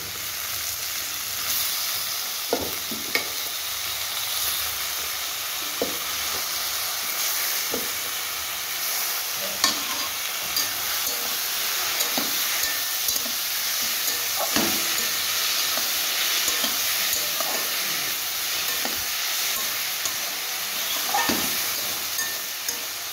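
Lote (Bombay duck) fish frying in a pan, a constant, loud oily sizzle and hiss broken by occasional sharp pops and crackles, with no talking.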